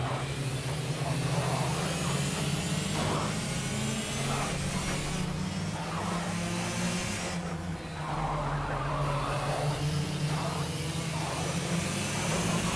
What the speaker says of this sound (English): Go kart racing.